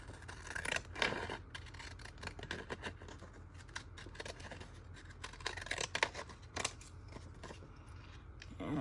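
Scissors cutting through craft paper at a crafting table, a run of crisp snips and rustling paper strokes, close and moderately loud, with no talk.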